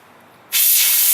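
An aerosol can of cleaner sprays onto Plasti Dip in one steady, loud, continuous hiss that starts abruptly and keeps going, with no talking.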